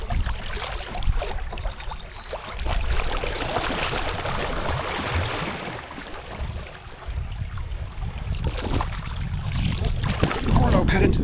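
A canoe paddled down the Grand River at a steady, comfortable flow, with continuous splashing and rushing water close by and faint voices mixed in.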